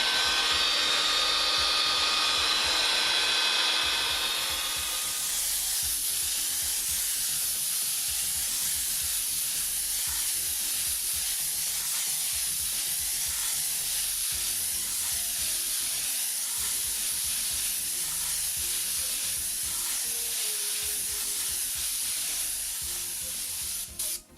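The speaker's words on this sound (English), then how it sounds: "And we'll dry that with a heat gun or a hair dryer." A hair dryer or heat gun blows steadily to dry freshly airbrushed paint, a continuous loud airy whoosh with an underlying motor drone that runs unbroken throughout, after a brief louder burst at the start.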